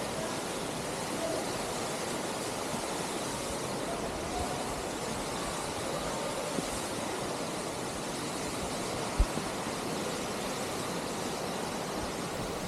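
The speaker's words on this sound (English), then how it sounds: "All of this melted water runs down, forming this waterfall." Waterfall fed by glacier meltwater at Jogini Falls near Manali, a steady broadband roar that fills the whole stretch without pause or change.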